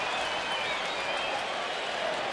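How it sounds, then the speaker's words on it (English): A baseball crowd at a Blue Jays home game against the Red Sox in Toronto, a steady broad roar of cheering and scattered clapping that holds evenly throughout, distant and washy. "The crowd has come to life here."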